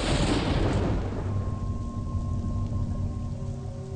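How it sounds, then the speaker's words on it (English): A lightning strike in the Sayaka horror game crackles into a loud thunder rumble over steady rain, then a low droning hum with faint tonal lines lingers as the storm fades. "I like that lightning strike each time you step"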